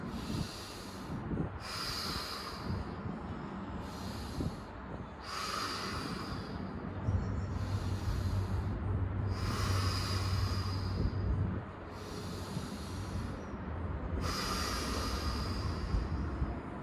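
Deep, slow yoga breaths come in a steady rhythm of drawn-out hissing inhales and exhales, close and fairly quiet, each lasting about a second with short gaps between them and no talking.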